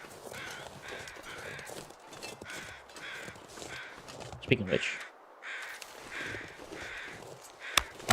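Crows caw repeatedly around a dead body in the survival video game The Long Dark, a series of hoarse calls at a moderate distance while someone talks.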